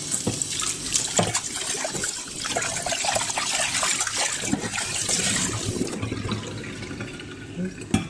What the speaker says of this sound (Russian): С водой сполоснем.